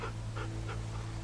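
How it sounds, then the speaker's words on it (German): A dog in The Walking Dead video game pants in a steady rhythm of short breaths over a constant low hum, close and fairly quiet, with no voices. "Oh, was für ein netter Hund."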